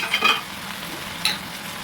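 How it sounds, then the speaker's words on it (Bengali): Chopped vegetables, onion and green chilli for red rice vegetable khichuri sizzle in oil as a spoon stirs them, a soft hissing fry with a couple of brief scraping strokes near the pan. "সব কিছু দিয়ে একটু ভেজে নিয়ে"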